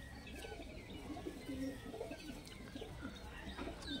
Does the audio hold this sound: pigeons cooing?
yes